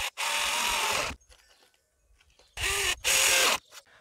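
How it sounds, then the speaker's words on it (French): A drill bores through a wooden pallet plank while building a garden chair or sofa. There is a loud, whining one-second burst, then a quiet pause, then two shorter close bursts. "Là, on va percer directement à travers la planche."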